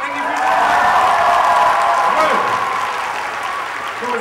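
Applause from a small audience inside a balloon act, steady clapping that swells and then eases off while a presenter's voice carries over it.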